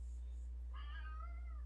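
A cat gives a single faint meow, a short rising-and-falling cry over a low steady hum, with no voices.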